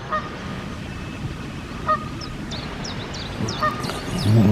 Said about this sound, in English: Obviously Canada geese, they get every place they were.